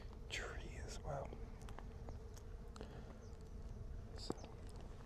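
Bees buzz around a tree in the Sonoran Desert, a faint steady hum in the open air beneath soft nearby whispering and a few light footsteps.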